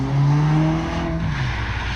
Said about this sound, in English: Same thing now, she's going to go through, she's going to slam on the brakes.